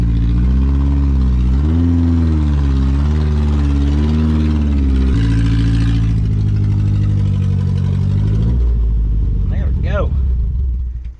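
An old Mazda engine fitted with a custom hood scoop idles loudly and close by, its low rumble rising and wavering before settling, then sputtering and stumbling near the end as if about to stall.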